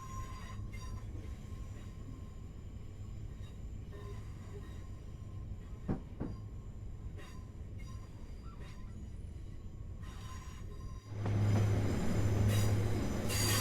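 BR Class 805 Evero train running on diesel power in the Train Sim World 6 game: a steady rolling rumble with a low engine drone, a couple of brief sharp clicks midway, then a louder, fuller surge of noise near the end.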